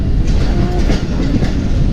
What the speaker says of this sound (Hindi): 10:15 बजे हमारी गाड़ी पहुंची है, 1 घंटा लेट गुजराले रेलवे स्टेशन पे।